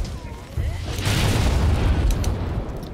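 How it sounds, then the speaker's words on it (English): Explosion in the Monster Hunter World: Iceborne video game, a loud sustained boom with rumbling low end that swells after a short quieter lead-in and lingers for a couple of seconds. "the explosion knocked me back"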